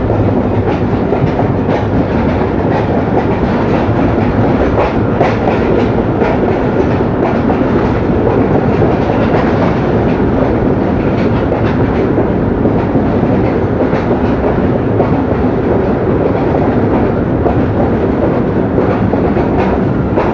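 A Pakistan Express passenger train running from Rawalpindi to Dina rolls steadily along the rails, with a loud continuous roar and rhythmic clickety-clack of the wheels heard from on board, no voices.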